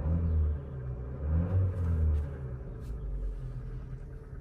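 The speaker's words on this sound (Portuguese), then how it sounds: "tem um barulho de motor que atravessa bastante a cabine" Jeep Compass S 2022 1.3 engine rising under acceleration, a low droning rumble heard from inside the cabin, moderately quiet and steady with a slight swell, no talking over it.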